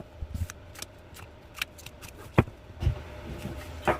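Tarot cards are shuffled and drawn close up in a quiet room, making a few soft, scattered snaps and papery slides, with one sharper flick near the middle.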